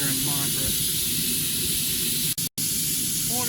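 Steam hisses steadily from a waste oil burner rocket stove steam boiler running at about 40 PSI, a loud continuous broadband rush with a brief dropout near the end and low rumble beneath.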